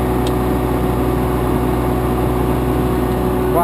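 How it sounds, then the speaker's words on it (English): A propane-powered Pelsue manhole generator with built-in air compressor runs at a steady, even drone, loud and constant with a low hum throughout and no talking. "I love this generator. It's nice and quiet, runs on propane so the carburetor never gets gummed up."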